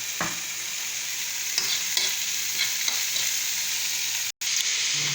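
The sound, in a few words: sautéing chicken with fish sauce in a pot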